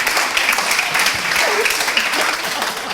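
Audience applause in a room during an improv talk, a dense steady wash of clapping that holds at an even loudness for the whole stretch, with a faint voice briefly audible beneath it.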